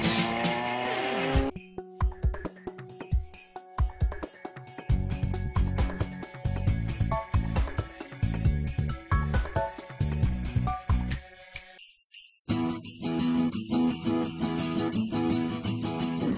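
Renault 5 Turbo rally car engine revving hard, loud close rasping bursts that rise and fall with sharp throttle blips, a brief silence near the middle, then renewed aggressive revving with crackles.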